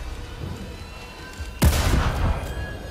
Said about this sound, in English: a gunshot at point blank range doesn't kill him